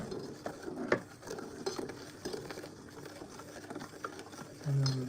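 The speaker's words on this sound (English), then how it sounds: "and then we're going to slowly whisk it." Coconut crème brûlée mixture slowly whisked in a bowl, soft rhythmic clicking and scraping strokes, fairly quiet and close, with a person talking over it.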